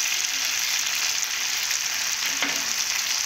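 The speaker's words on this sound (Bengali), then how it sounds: "আমি একসঙ্গে আলুগুলো ভেজে নেব।" Potatoes fry together in a pan, giving a loud, steady, close hiss of sizzling oil that carries on unbroken, with a faint stir partway through.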